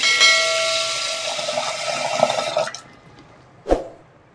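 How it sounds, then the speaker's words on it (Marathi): Water gushes steadily into a container of wheat for a few seconds, then stops, followed by a single splashy drip. "तर भरपूर पाणी टाकायचं याच्यामध्ये"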